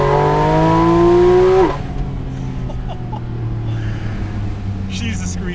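Porsche GT4 RS engine screaming at high revs, its rising harmonic whine loud and close for under two seconds before cutting off abruptly, leaving a lower rumbling drive and road noise underneath.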